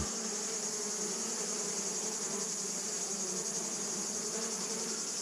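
A honeybee colony drones at an open hive with a dense, continuous buzz, close and steady throughout, with no other sounds.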